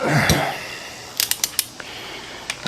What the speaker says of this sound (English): I torque these to 45.